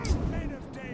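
Troops in Third Age Total War: Divide and Conquer volley fire-arrow ammunition at will during a Gundabad battle, heard as a loud, dense burst of overlapping shots and battle noise that fades slightly across the second.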